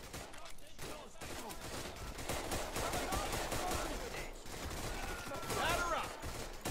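Rapid bursts of gunfire and machine-gun fire in the World War II shooter Raid: World War II, dense and overlapping, with voices shouting amid the shooting.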